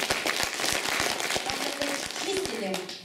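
An audience at a village folk concert in Severoonezhsk applauds steadily, with dense clapping running the whole time. A voice talks over the applause near the end.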